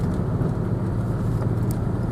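A truck drives along a road with a steady, close engine and road rumble that holds constant throughout, with no distinct brake squeal standing out.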